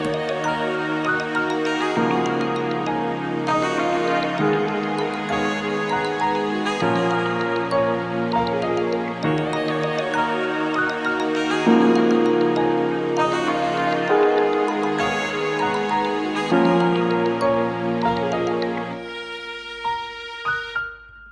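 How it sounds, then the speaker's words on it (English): A full hip hop beat with a saxophone melody playing over steady drums and bass, loud and continuous before thinning out near the end. "in the chorus we have this saxophone that I took from Splice"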